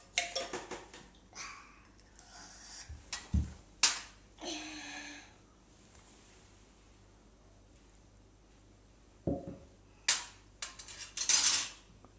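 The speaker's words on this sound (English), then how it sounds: "Can you stir it with your spoon?" Small spoon clinking and tapping against a toy tea set cup in a few short bursts, with quiet gaps between and a couple of sharper clicks near the end.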